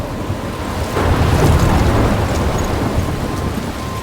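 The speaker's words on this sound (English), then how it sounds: "I'm trapped in a storm?" A thunderstorm in the video game Life Is Strange brings steady, heavy rain hissing over everything while a deep roll of thunder swells midway and lingers, loud and enveloping, with no voices.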